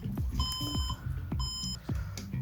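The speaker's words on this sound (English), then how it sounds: "Okay, so still it has that red, yeah, 4 beeps." An HP Compaq 8000 Elite Ultra Slim computer that won't power up sounds error beeps: short high electronic tones in repeating groups, with clicking and thumping handling noises around them.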